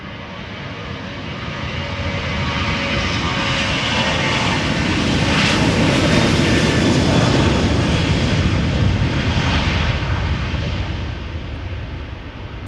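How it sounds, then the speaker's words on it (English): A Transavia Boeing 737-800, twenty years old, roars through its takeoff run at Amsterdam Schiphol, a loud, sustained broadband jet rumble that swells toward the middle and eases slightly at the end, with no voices over it. "next up, Transavia outbound to Ibiza. 737-800, 20 years old"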